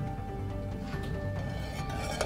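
A spoon clinks and scrapes against a cup as red strawberry coloring is stirred into an iced drink, producing faint, scattered taps under a low background hum.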